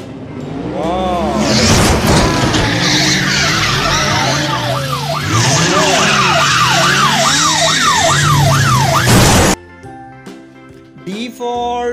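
A cartoon car sound effect: a rising engine rev and loud, wavering tire screeches that swoop up and down for several seconds, then cut off abruptly into a short musical tail.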